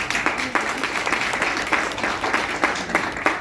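Audience applause at a live talk, a steady wash of many hands clapping close and loud through the whole stretch, with no voices over it.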